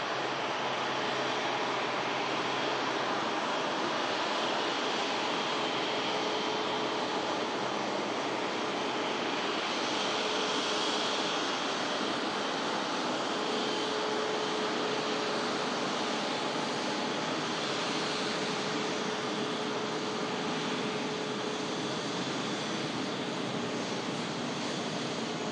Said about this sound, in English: We'll keep our attention on this beautiful 350 as it taxis past us at the Manchester Airport runway visit park